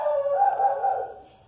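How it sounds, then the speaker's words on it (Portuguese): A dog lets out one drawn-out, whining bark that trails off and fades within about a second. "E o meu cachorro tá barulhando"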